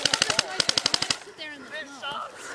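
An airsoft gun fires two rapid bursts of about seven sharp, evenly spaced shots each outdoors during an airsoft game, followed by excited voices talking.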